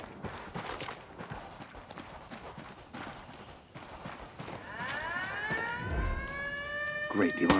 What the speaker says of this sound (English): Great, the alarm's all we need.